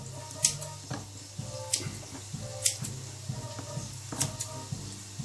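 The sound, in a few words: scissors snipping salmon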